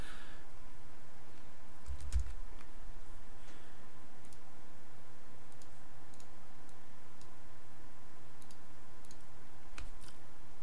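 Sparse, faint computer mouse clicks while a t-shirt text design is set up, isolated ticks scattered across a quiet background with a slightly louder cluster near the start.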